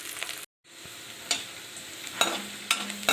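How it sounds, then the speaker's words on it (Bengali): Garlic cloves frying in hot oil for a Bengali aloo dum, with a steady sizzle and several sharp scraping stir strokes, briefly cut off by a short gap of silence near the start. "এখন এই রসুন কটা ভেজে নেব, একটু লাল লাল করে ভেজে নেব।"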